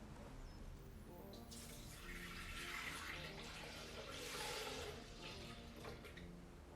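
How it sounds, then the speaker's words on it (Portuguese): One litre of milk pours into a Thermomix in a soft, continuous liquid gurgle and splash, faint and close, with no talking. "Colocamos 1 litro de leite"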